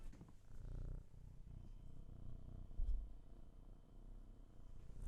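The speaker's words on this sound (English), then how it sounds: "she's like right next to the microphone and she's purring" A cat purring right next to the microphone indoors, a steady, low, rumbling purr that continues close and soft for several seconds without talk.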